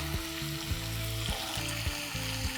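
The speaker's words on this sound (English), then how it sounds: "I'm going to shallow fry the potatoes also for at least 5 to 6 minutes to get a nice golden color" Potatoes shallow frying in mustard oil in a pan give a steady, close sizzle, broken by regular scraping bursts from stirring about every half second.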